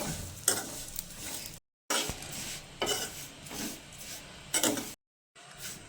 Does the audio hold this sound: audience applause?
no